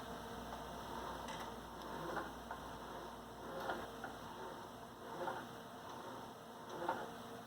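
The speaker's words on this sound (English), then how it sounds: "here's the sound of the wheel when you're turning it" A Logitech G923 racing steering wheel being turned back and forth, giving soft mechanical ticking and gear-like clicks in a steady close rhythm, with faint periodic bumps and no talking.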